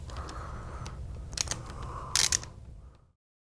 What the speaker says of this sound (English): I'm going to use a ratcheting wrench just because it's a little easier to get in between the foot stirrup